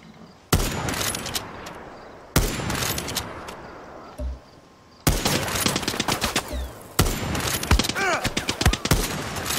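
Bursts of gunfire in the video game Far Cry 6, rapid volleys of shots starting and stopping abruptly, loud and close, with brief quieter gaps between the salvos.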